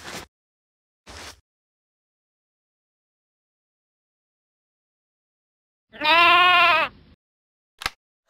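A single clear sheep bleat sounds alone in near silence, with a few brief soft noises around it.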